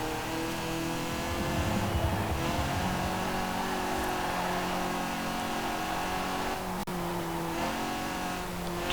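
A 102-horsepower car engine in Forza Horizon 4 revving up to about 6,000 RPM, a steady droning engine note with rising and falling pitch, moderately faint.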